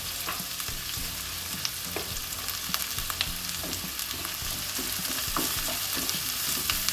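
Onion with curry leaves and salt sautés in a pan, a continuous crackling sizzle broken by frequent spatula scrapes and taps close by, with no talking.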